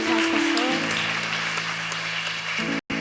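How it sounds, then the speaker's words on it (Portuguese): Church congregation applauding during a service, steady moderate clapping over sustained organ-like keyboard tones, ending in a sudden brief silence. "Pessoal, vamos aplaudir o Senhor"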